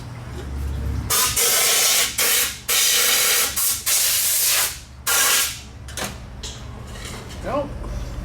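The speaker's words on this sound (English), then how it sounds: "we're going to go ahead and spray some brake clean down in here" Several bursts of brake cleaner aerosol spray hiss, each lasting about a second, with short pauses between them, close up over a low mechanical hum, while cleaning grease from a Yamaha YZ250FX motorcycle fork.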